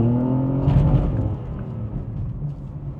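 A fast car revs and pulls away sideways, its engine drone rising briefly then settling into a steady whirring hum that fades slightly, heard alone without talk.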